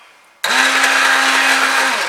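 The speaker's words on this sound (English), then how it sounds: "Okay, so I hand blended that" A hand blender snaps on and runs at a steady high-pitched whir through a thick fudge mixture, loud and close, with a constant motor hum and no talking.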